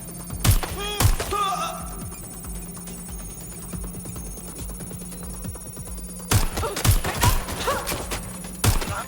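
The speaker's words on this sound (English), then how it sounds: "Shots fired! Shots fired!" Video game gunfire in Watch Dogs: Legion, a couple of sharp loud shots near the start and another burst of bangs toward the end, with a quieter stretch of background game ambience between them.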